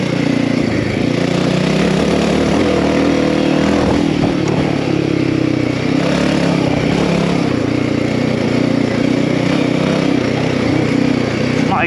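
A Royal Enfield Himalayan 450 Rally with performance upgrades ridden on a dirt trail, its engine droning loud and continuous close by, with rough clatter from the terrain.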